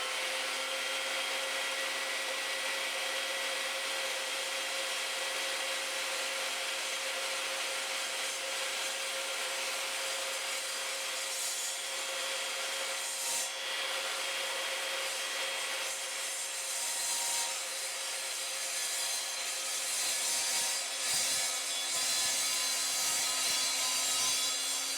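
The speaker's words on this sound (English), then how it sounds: "I'm now going to cut this piece of acrylic, which is approximately 10 inches deep." An Evolution Rage 3 sliding mitre saw cuts through a 10mm-thick sheet of acrylic, a steady high-pitched whine and grinding hiss running unbroken for the whole stretch, fairly loud and close with no voices.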